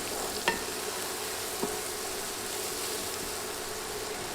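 Spices with coriander and cumin powder and salt fry in a pan while being stirred, a low, steady sizzle with two soft clinks of a spoon against the pan early on.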